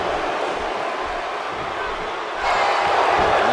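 A wrestling crowd roars in a steady, loud wash of cheering that swells even louder near the end.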